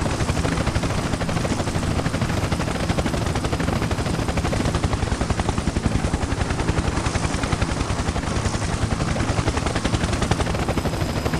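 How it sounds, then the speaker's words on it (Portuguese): Rapid, steady chopping of a helicopter's rotor and engine in GTA San Andreas, loud and continuous with no other sounds. "Igual um helicóptero bem real, da vida real mesmo."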